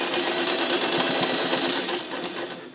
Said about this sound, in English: I could do a little bit of a longer stitch.